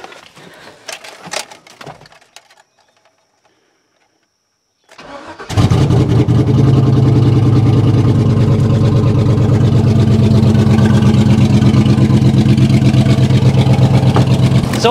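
A Gen3 6.0 LS V8 in an old, rusty road salt truck cranks and fires up after a short quiet gap, then runs loud and steady with a rough, raspy note from exhaust leaks on both sides.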